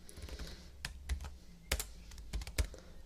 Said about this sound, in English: I'm going to type out a really simple 3-line example now